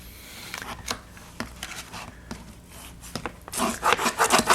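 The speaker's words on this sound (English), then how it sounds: "Rub this very tight, and then press down. Press the fabric into the corner." Fabric is rubbed firmly down onto a wooden stacking box and pressed into the corners, giving repeated close scratchy strokes and rasping rubs that grow busier and louder toward the end.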